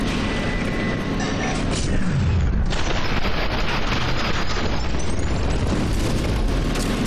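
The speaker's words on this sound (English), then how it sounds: "Did that grenade just hit me" A grenade goes off in the first-person shooter F.E.A.R. 2: Project Origin, a loud sustained boom and rumble amid dense game combat noise, with a voice speaking faintly underneath.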